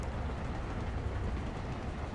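A train rolls along its tracks in the Delta Force 2 video game, heard as a steady, dense rumble that holds at an even loudness throughout.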